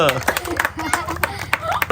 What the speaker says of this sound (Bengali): হাততালি দাও সবাই ভুট্টার জন্য